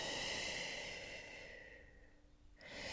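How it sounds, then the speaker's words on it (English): Slow, audible breath in and out during a yoga session, a long airy exhale fading to near silence before the next inhale begins, close and alone. "Full breath in and out."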